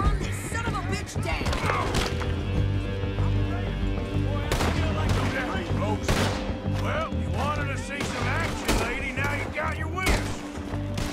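Gunfire in the video game Red Dead Redemption 2, repeated sharp shots in rapid irregular bursts over game music and shouting voices, loud and close throughout.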